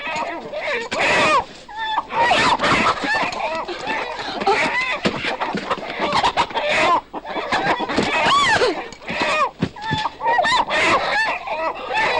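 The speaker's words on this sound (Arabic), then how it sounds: "انا كنت معايا قفص فراخ، فالقفص وقع، طارت الفراخ طرنا نجيبها" Chickens loose from a fallen cage cluck, squawk and flap in a frantic, loud, dense chorus, with people shouting over them throughout.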